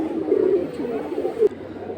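Pigeons coo at a pigeon market in a low, throaty run of calls, close and fairly clear over faint background noise.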